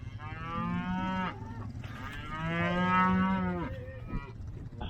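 A cattle herd mooing on a farm during planting work, with two long, loud, close moos that swell and fade over a quiet background.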